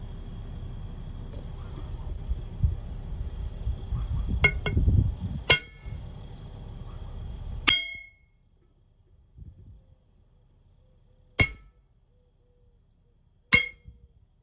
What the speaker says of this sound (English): just hit it with the hammer here